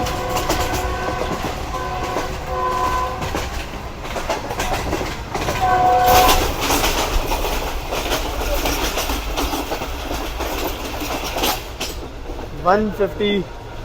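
The 2 Down Shah Latif Express passes close by after leaving Malir station in Karachi, a loud continuous rumble of rail cars with rhythmic clatter and a horn blast, voices briefly audible.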